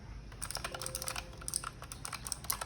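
Rapid clicking of keys on a Razer gaming keyboard, irregular and fairly quiet, heard up close with no voices.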